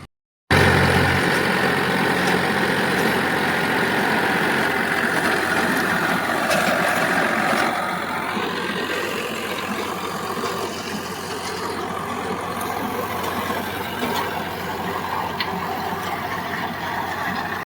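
A heavy tractor engine, fitted with a rotavator, starts up and runs loudly, a steady low rumble that eases a little in volume partway through and continues.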